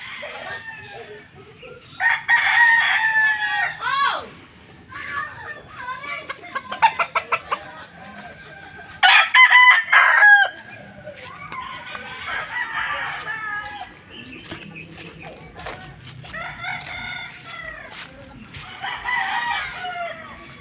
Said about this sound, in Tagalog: Ayan, maraming mga manok dito.